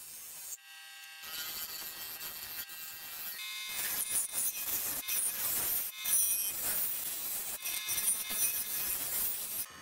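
Gouge cutting the bottom of a maple burl bowl spinning on a lathe, with a continuous hissing, buzzing scrape that grows louder and rougher as the tool bites, alongside a faint motor hum.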